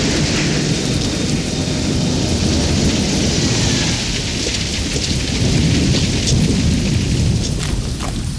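Heavy rain pours in a steady, dense roar with low rumbling thunder underneath, continuous and loud throughout with no voices.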